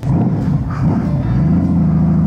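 A 1520cc Honda Valkyrie motorcycle engine rumbles loud and close, a deep, throaty, continuous growl with slight surges in revs and no voices over it.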